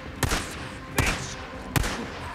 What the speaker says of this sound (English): Schizo, stop shooting!